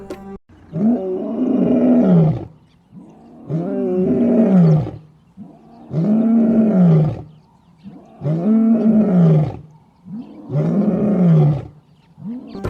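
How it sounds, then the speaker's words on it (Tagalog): A lion roars in a series of six deep, heavy bursts separated by short pauses, loud and close, each rising and then fading into grunts. "ang pangunahing trabaho ng lalaking pusa sa pride ay protektahan ang teritoryo nito ang atungal ng leon"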